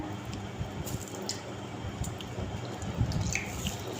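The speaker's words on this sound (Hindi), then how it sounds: "इसके अंदर हमने 1 कप ऑयल का डाल देना है" A cup of cooking oil is poured into a kadai while making chicken masala curry, giving a soft, steady liquid trickle with faint drips over low background noise.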